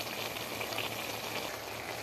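Potato and saag onion bhujiya simmers in a pan while the last water cooks off, giving a steady, dense bubbling sizzle with no pauses and no talk.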